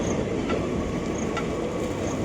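A train rumbles at a railway station in the morning, a loud, steady heavy roll with rhythmic wheel clatter and faint metallic squeals close by.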